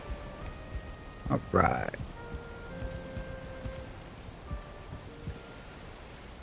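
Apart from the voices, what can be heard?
rain in the video game Valheim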